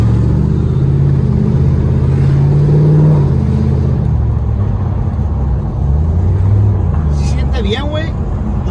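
Ford Mustang driving on the street with a faulty exhaust, a loud low engine rumble that swells as it accelerates, with people talking over it.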